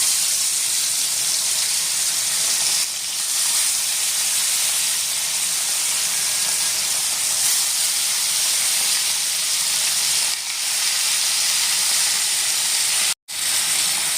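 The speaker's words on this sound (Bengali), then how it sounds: "তেলটা গরম হলে আমরা মাছগুলো ভেজে নেব" Small puti fish fry in hot oil, a loud, constant hissing sizzle that carries on unbroken and close, with only a couple of momentary dips and no voices.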